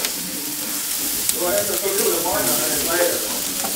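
Fat frying in a pan on a home stove, a steady broadband sizzle and hiss running throughout, with murmured voices rising over it midway.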